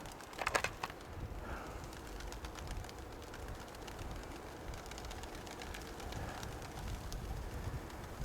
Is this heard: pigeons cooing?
yes